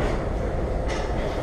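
A metro train rumbles through a Marseille subway station, a dense, loud, steady rolling roar with a brief hiss partway through.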